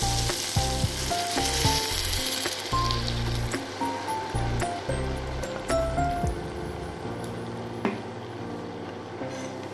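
Water poured into a pan of sizzling fried spice paste for a pumpkin dhoka curry, with a steady crackling fry and intermittent stirring and scraping clatter, close and moderately loud.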